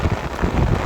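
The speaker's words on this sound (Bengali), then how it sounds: "আমরা যাই, অনেক বৃষ্টি আছে।" Heavy monsoon rain pours down outdoors in a dense, loud, continuous hiss with no distinct drops, heard only briefly.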